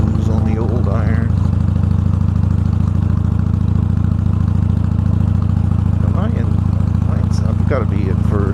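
Harley-Davidson Iron 883 motorcycle rumbling in first gear on a slow cruise, a steady loud low engine drone throughout with wind noise and a rider talking over it.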